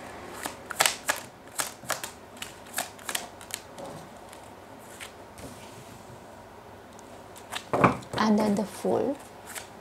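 Tarot cards shuffled by hand, a rapid series of crisp dry flicks and riffling taps at close range, pausing midway before a louder burst of shuffling, while a voice speaks briefly.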